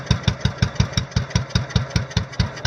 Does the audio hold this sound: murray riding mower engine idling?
yes